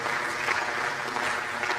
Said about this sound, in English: Please let us sustain the applause.